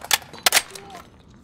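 Gunfire in the video game Call of Duty: Modern Warfare Warzone, with a few sharp, close shots in quick succession followed by fainter game sounds.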